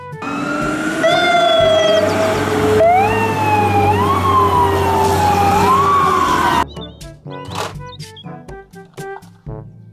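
A fire truck siren wails loudly, its pitch sweeping up and down over a rumbling engine, then cuts out, leaving scattered clatter and bangs.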